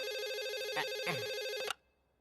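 A telephone rings with a steady, warbling electronic trill, loud and continuous until it abruptly cuts off, leaving near silence.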